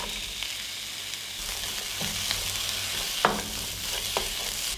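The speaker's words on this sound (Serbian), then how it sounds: "Ulje se zagrelo i propržit ću luk i papriku." Onion and bell pepper sizzle steadily in heated olive oil in a deep pan, a continuous close frying hiss broken by a few sharp clicks of stirring, with no talking.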